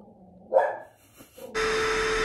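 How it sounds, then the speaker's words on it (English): A single short dog bark rings out nearby, followed by a quieter pause, then a sudden burst of steady noise. "My dog is barking."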